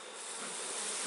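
Honeybees drone in a dense, continuous buzz at an open hive during a beekeeping inspection, close and steady for a brief moment with no voices.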